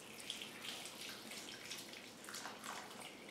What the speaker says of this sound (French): Environ 2 tasses d'eau qu'on va venir verser dedans.